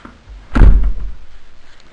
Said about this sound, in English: This is the yard door.